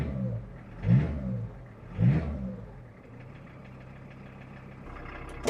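Non-turbo 2.4 litre car engine fitted with a big-bore stainless exhaust, blipped twice in quick revs from idle, then settling into a steady low drone while driving through a village.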